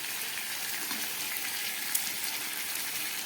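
Water pours into a pan of spiced chicken and potato curry, giving a continuous hissing, bubbling gush at moderate volume with no talk.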